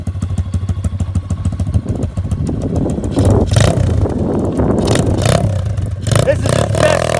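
A Tao Tao DB17 125cc dirt bike idles, then revs and pulls away with a rising, buzzy engine note and gravelly clatter, close and loud, while people talk over it.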